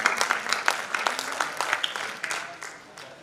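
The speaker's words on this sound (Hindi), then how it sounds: "आप तालियां बजाकर इस कवि का" An audience at a Hindi poetry gathering claps for a poet, with a quiet, uneven patter of hand claps that gradually thins out.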